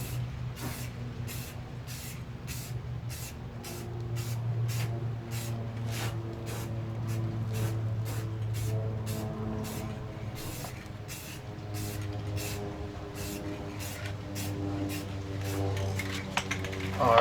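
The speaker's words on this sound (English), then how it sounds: "So I do light coats so it doesn't do any runs in them." Rapid bursts of aerosol clear coat sprayed in light passes onto Camry headlights, a long run of short, evenly spaced hisses at close range over a steady low background hum, with no talk.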